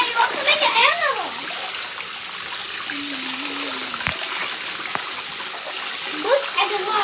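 Water runs steadily from a tap into a bath, a continuous close gushing hiss under a child's and adult's voices talking over it.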